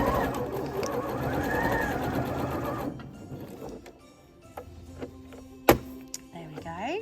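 A sewing machine stitches up and down the points of a fabric crown, running in a steady whirring burst for about three seconds, then stopping, followed by quieter handling noises and one sharp clack.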